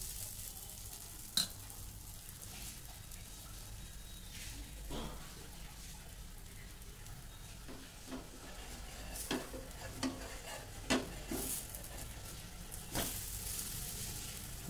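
Uttapam batter cooking on a hot griddle on the second try, with a steady low sizzle running throughout and scattered soft clicks and scrapes from stirring or spatula work, fairly quiet and close, with no talking.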